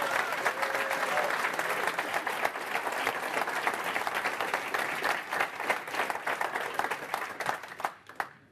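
Sustained applause from a large crowd, dense clapping that carries steadily for several seconds before thinning out and stopping near the end.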